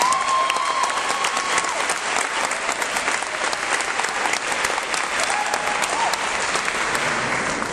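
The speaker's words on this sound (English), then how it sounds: "So how about we get a round of applause?" An audience at FWC RedFest applauding its coaches, with loud, continuous clapping filling the whole stretch at an even level and occasional whoops or cheers mixed in.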